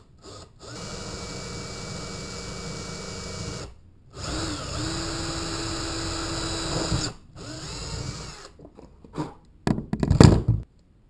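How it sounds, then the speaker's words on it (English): A power drill bores a hole through a sports camera case at the top near the mic pinhole, running in several steady whirring bursts with short pauses between them and ending in a louder, harsher grinding burst. "I'm going to drill a hole through that mark."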